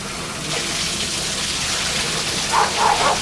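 Water gushes from a bathtub tap in a steady, close splashing stream that grows a little louder near the end, with no talk over it.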